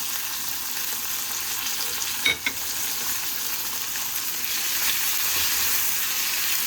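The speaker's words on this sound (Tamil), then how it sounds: "நமக்கு வெங்காயம் நல்லா வதங்கிடுச்சுங்க கிட்டத்தட்ட ஒரு தேர்ட்டி செகண்ட்ஸுக்கு நல்லா வதக்கி விட்டாச்சு" Shallots with ginger and garlic sautéing in a pan for chicken kuzhambu, a steady broadband sizzle throughout with a couple of brief stirring scrapes near the start and no talk.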